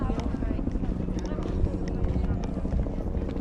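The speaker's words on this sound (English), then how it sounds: "I guess helicopter tours are back in business" A tour helicopter over New York Harbor thrums in the distance, a steady low rotor drone beneath wind and a voice talking nearby.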